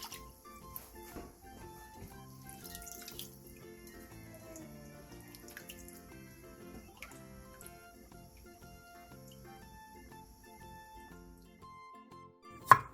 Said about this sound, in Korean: 데친 콩나물은 바로 찬물에 헹군 뒤 물기를 충분히 빼놔주세요.